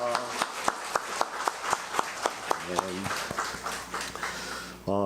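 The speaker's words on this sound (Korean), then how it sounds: "우리 하나님께 감사의 박수 올려드리겠습니다" A Sunday worship congregation at Onnuri Church Osaka claps in a steady, evenly spaced rhythm, the sharp claps sounding together with voices and sustained tones throughout.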